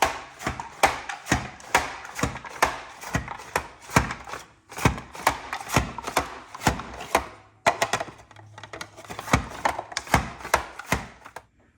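Carrots being sliced with a knife on a cutting board for cabbage soup, a brisk run of sharp, close chops in an even rhythm with a brief pause partway.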